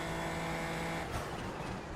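A sim racing car on an oval holds high revs near its limiter, giving a steady buzzing drone with constant harmonic tones and one brief surge partway through.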